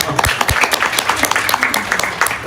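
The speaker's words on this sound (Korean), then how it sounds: "제가 박수를 한번 좀 드리고 싶은데요" Audience applause at a university course workshop, a short burst of scattered clapping from a room of people that fills the moment at moderate loudness.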